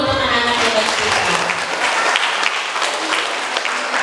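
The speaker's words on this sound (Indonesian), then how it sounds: "Tepuk tangan dulu untuk anak-anak hebat kita." Applause for kindergarten children at a graduation ceremony in a studio, a steady wash of clapping from a seated audience that holds evenly for several seconds with a voice briefly over the start.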